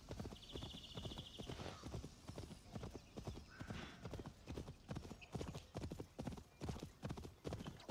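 Horse hooves clip-clop in a quick, steady galloping rhythm in Assassin's Creed Valhalla, with an occasional neigh and faint game sounds behind.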